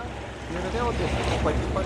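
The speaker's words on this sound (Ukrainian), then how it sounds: "От таке море." Sea waves on a sandy beach at Seashell Beach in Hurghada, a continuous wash of surf mixed with wind buffeting the microphone, with faint voices in the background.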